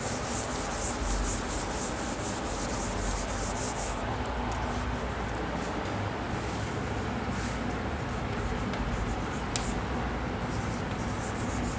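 Repeated rubbing strokes erasing writing from a classroom board, a close, steady scratchy swishing that continues throughout with no talk.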